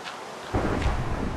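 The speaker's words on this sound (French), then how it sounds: "Oh la vache, l'orage!" A sudden burst of thunder rolls in a Minecraft thunderstorm, starting abruptly after a quiet moment and rumbling loud and low without any talk.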